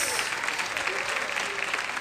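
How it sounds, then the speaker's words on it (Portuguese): Studio audience at a comedy show applauding, a short dense burst of continuous clapping heard close and steady. "Aplausos pra vocês"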